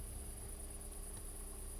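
Crickets chirping at night in the Spanish countryside, a faint steady high trill that runs unbroken over a low background hum.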